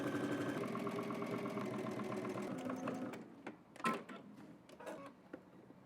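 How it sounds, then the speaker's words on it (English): Sewing machine edge stitching fabric, a steady close whirring run for about three seconds, then stopping, followed by a few clicks and handling noises. "let's head to the machine and stitch this down"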